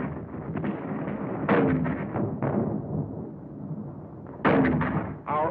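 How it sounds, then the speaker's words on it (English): Artillery fire at the Battle of San Pietro, falling close to front lines: a few heavy booming bursts with rumbling decay, separated by a couple of seconds, muffled and archival in quality. "Our own artillery was brought to fall within 100 yards of our front line elements."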